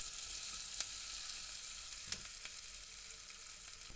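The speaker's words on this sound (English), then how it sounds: "Once hot and smoking, add the onions and pepper and cook on high for around 5 minutes until they start to catch" Onions and peppers cook on high in hot, smoking oil with a soft, constant sizzle and a few sharp pops and stirring taps.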